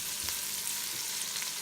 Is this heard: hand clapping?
no